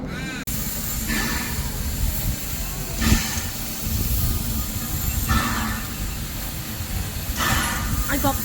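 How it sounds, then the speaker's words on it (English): A steam train runs along rail with a steady rumbling roar, broken by periodic bursts of hissing steam roughly every two seconds, heard from on or near the train. "follow in for the first leg of our journey by steam rail"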